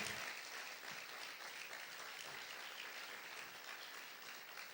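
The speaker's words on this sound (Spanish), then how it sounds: "Vamos a aplaudir fuerte al Rey." A church congregation applauds in worship, the clapping sustained and even for several seconds, a broad soft roar heard from a distance with no clear speech on top.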